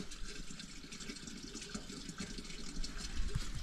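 Water drains into an RV holding tank with a continuous gurgling trickle inside the pipe, steady and moderately close, with no talk.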